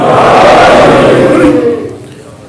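A mosque majlis gathering responds in unison to the Naara-e-Haidari religious chant, a loud swelling collective shout of many voices close by that rises, holds, then fades over a couple of seconds.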